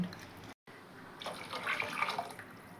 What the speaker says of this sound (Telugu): ఆ చింతపండు పులుసు అయితే ఇప్పుడు వేస్తున్నాను